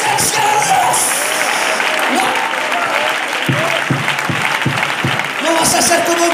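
Church congregation clapping during a Spanish-language sermon, a dense, loud wash of applause with some cheering while a voice carries over it.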